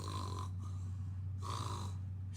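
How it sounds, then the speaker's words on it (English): Snoring in a read-aloud children's story, two slow, drawn-out snore breaths a second apart with a quieter third beginning, over a steady low hum. "snored"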